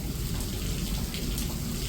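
Heavy rain falls on a farmyard where cows shelter, a steady, close hiss of downpour with no break or talk throughout.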